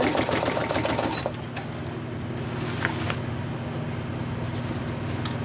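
Sewing machine running steadily as it stitches lace onto a journal folio, a fast close buzz that stops after about a second, then faint handling clicks and light background hum.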